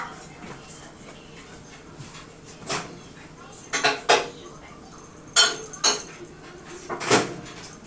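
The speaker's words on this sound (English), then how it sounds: "So I'm going to put this in the microwave really quick." A bowl of melt-and-pour soap base is handled and set into a microwave, giving several sharp clinks and knocks of dishware scattered over a quiet room.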